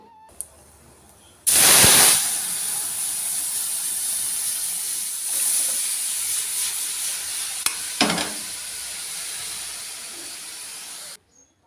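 Pea lentil dal hits hot oil with a sudden loud sizzle that holds as a steady, hissing fry for about ten seconds, with a brief stir midway, then cuts off; no one speaks.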